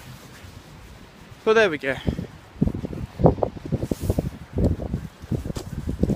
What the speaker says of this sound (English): It's a shame it has to be so windy.